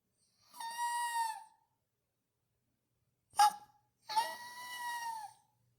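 A person imitates a Tawny Owl's hoot, giving a long wavering call, a short sharp note after a pause, then another drawn-out quavering hoot, all close and clear against silence.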